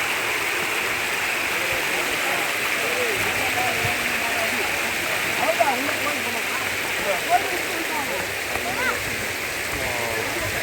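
Water cascades down stone steps at Brindavan Gardens in Mysore, a steady rushing wash that fills the whole stretch, with a few brief splashy accents and visitors' voices murmuring beneath.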